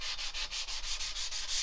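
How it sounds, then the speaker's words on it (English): Sandpaper is rubbed by hand over a milk-painted side table in quick, even back-and-forth strokes, a soft rasping rhythm of about eight passes, close and alone. "when you're smooth sanding, you are simply taking your sandpaper"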